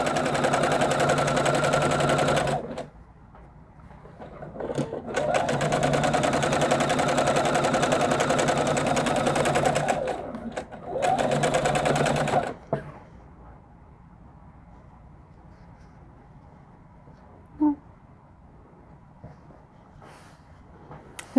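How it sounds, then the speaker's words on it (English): Quilt pieces for a crib-size quilt run through a sewing machine in several loud, steady bursts of rapid stitching, broken by short pauses, then quiet room tone with a faint click near the end. "And sew it through the sewing machine, lining it up with that 1/4 inch foot,"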